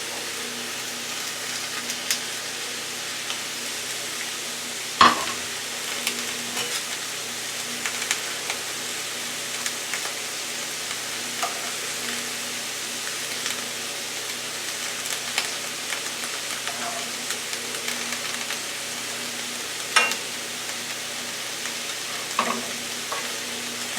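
Angus beef patties fry steadily in olive oil in a pan, with a loud, continuous close-up sizzle and crackle. Occasional sharp pops and spatters stand out, and no one talks over it.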